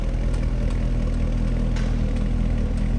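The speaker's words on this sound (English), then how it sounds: "listen to the exhaust idle here" A 2013 Chevrolet Corvette Grand Sport convertible's 6.2-litre LS3 V8 exhaust idles with a steady, low, throaty rumble that stays even and close throughout.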